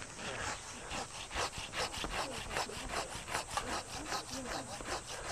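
A hand pruning saw cutting through a thick Japanese maple branch during park tree pruning, with steady rhythmic back-and-forth rasping strokes, close and continuous, roughly two or three strokes per second, and no talk over it.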